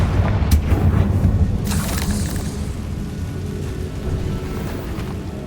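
A Confringo fire spell bursts in the video game Hogwarts Legacy, giving a deep booming blast with a sharp crack near the start, then a rumbling, decaying roar like distant thunder.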